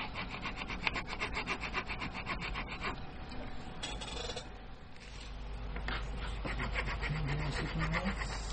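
Small file rasping grooves into an oiled bone nut on a Fender Jaguar guitar, with steady scraping strokes close up, a brief pause midway, then renewed filing.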